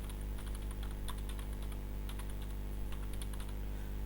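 Keys clatter steadily on a computer keyboard as a director's name is typed into a form, a run of close, quick taps over a low steady hum, with no voices.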